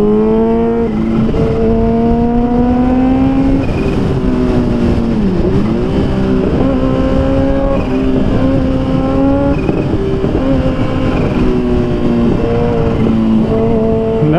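Ferrari F430 sports car driving close by, its engine a loud continuous roar that rises and dips through gear changes and revs, dominating the sound throughout with no talk over it.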